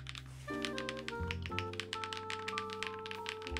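Rapid keystrokes clatter on a Trio 65 mechanical keyboard with Bigwig switches and no case foam, crisp close taps in a quick irregular rhythm with a faint background hum.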